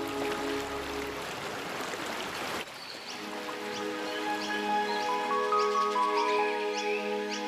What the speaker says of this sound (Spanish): Y el viejo río Fink fluye de nuevo